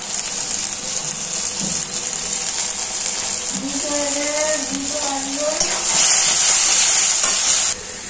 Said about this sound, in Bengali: এবার ভালো করে মশলাটা ভালো করে কষাবো, যাতে মশলা থেকে তেল ছেড়ে যায়।